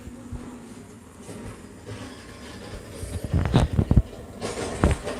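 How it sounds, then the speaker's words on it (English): A garbage truck passes outside an open window, a low rumbling drive-by that builds over several seconds, with louder clanks and bursts near the end, steady and mid-distance. "Sorry, the garbage truck, I hope that wasn't too loud when it was coming by."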